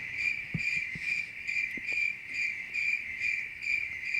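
Crickets chirp as a sound effect, a steady pulsing high trill repeated in even bursts throughout, with a few faint low knocks underneath and no talking.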